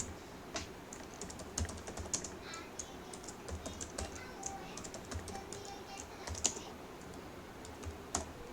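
Steady typing on a computer keyboard while entering a SQL query, with quick, irregular key clicks and occasional louder strikes continuing throughout, close and fairly quiet, with no talking.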